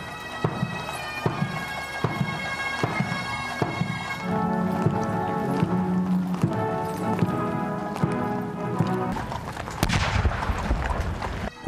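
Horse hooves clip-clop steadily through Queen Elizabeth II's royal funeral procession, a loud, even rhythm of hard strikes on pavement that carries on throughout against a dense background rumble.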